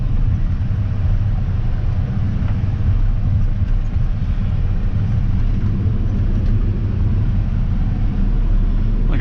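A truck engine idles and rumbles at low speed while backing a dolly up to a parked trailer, a steady close drone that holds at one level throughout with no talk over it.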